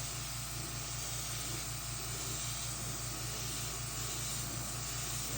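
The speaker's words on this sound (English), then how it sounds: "that's the whole purpose of a double action airbrush" A double action airbrush sprays paint in a steady, continuous airy hiss that holds evenly throughout, with a faint low pulsing hum beneath it and no voices.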